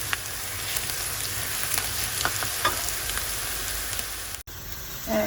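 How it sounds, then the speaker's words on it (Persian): Onions frying in oil in a pan for carrot rice, a fine continuous sizzle with scattered crackles and stirring, briefly interrupted near the end. "پیازمون رو توی روغن تفت میدیم، نمک بهش اضافه کردیم برای پخته شدن پیاز و اینکه زودتر سرخ بشه."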